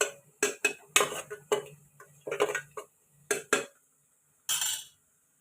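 A spoon clanks and scrapes against a pot while spices are stirred into khichdi, in close, irregular bursts of metallic clinks separated by short pauses, with no talking.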